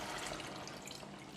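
Water pours steadily into a claypot of chicken and mushroom, a soft continuous splashing trickle heard up close for a moment with no talk.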